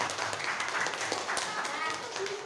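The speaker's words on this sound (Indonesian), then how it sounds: "Tepuk tangan." A classroom of students claps hands together, a busy spread of overlapping claps heard under children's voices and chatter.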